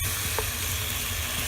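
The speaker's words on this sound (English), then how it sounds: "first you sear the meat with some either with some oil or ghee or butter" Veal sears in a hot pan of oil or butter, giving a steady, close, dense sizzle with no breaks.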